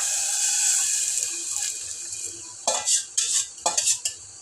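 Buttermilk going into a pot for a spiced buttermilk curry, followed by a spoon stirring and scraping. A soft pouring wash comes first, then several distinct clinks and scrapes of the utensil against the pot, close by, with no voices.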